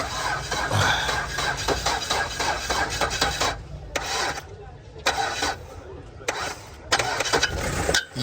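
A 2004 Mazda 2 city car engine starts and runs close by, a rough, dense broadband roar with several brief dips and breaks, mixed with rubbing handling noise.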